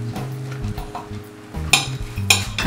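A knife saws through an oversized, heavily stuffed Italian deli sandwich, with soft scraping strokes and two sharper crunchy bursts near the end.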